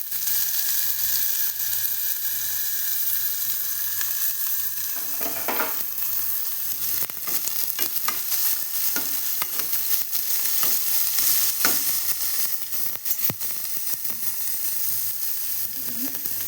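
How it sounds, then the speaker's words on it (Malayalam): Sliced onions sauté in hot coconut oil with popped mustard seeds, giving a continuous loud sizzle and crackle for several seconds, broken by occasional scraping stirs in the pan and no talking. "ആദ്യം തന്നെ കടുക് പൊട്ടിച്ച് വെളിച്ചെണ്ണ ഇട്ട് സവോള ഇട്ട്"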